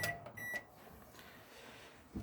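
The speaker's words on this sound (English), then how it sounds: "so there's the microwave working." A microwave oven in a 2016 Sprite Quattro caravan, giving a couple of short electronic beeps from its controls at the start and then a low, steady running hum, quiet and close.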